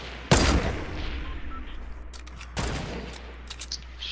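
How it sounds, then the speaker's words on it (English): Two loud bursts of gunfire in the Fortnite video game, one sharp volley near the start and another later, separated by quieter game ambience with faint distant pops. "Now they're getting shot at."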